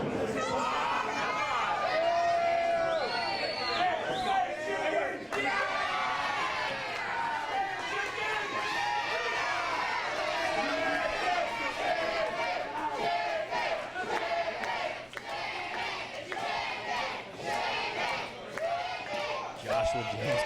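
A large crowd at an independent pro wrestling show in Oshawa roars and chants continuously, a dense wall of shouting and cheering that holds steady and loud throughout.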